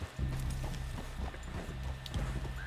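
Horse hooves clip-clop at a steady walking rhythm on a ride in Red Dead Redemption 2, close and continuous throughout with no talking.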